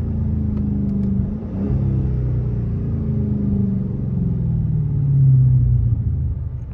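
Deep, steady exhaust rumble from a 2023 Dodge Charger Scat Pack fitted with Dynomax Race Bullets exhaust, droning continuously close by with a slight swell in pitch near the end, no voices.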